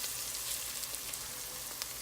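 Garlic fries in a pan, a faint, steady sizzle with light crackles scattered across it and no voices.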